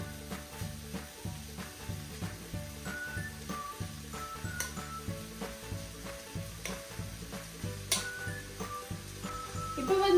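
Rice noodles with egg are stirred in a hot frying pan, giving a steady close sizzle with repeated rhythmic scraping strokes of the utensil throughout.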